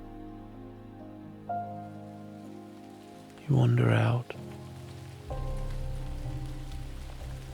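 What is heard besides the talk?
soft rain falling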